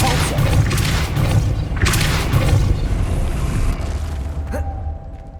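Depulso spell cast in the video game Hogwarts Legacy, a dense loud rumble of mechanical thumps and creaking shoves lasting several seconds, ending in a short bright ringing tone.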